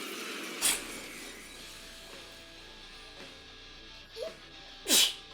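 A video game character in Persona 5 sneezes in short sharp bursts, one early and a stronger one near the end, over faint background music and quiet ambience.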